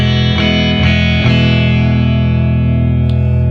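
A Harley Benton TE-20 electric guitar with the pickup selector in the middle position, both pickups on, plays three chords through an effects unit, then one sustained chord rings out loud and full with a slight edge.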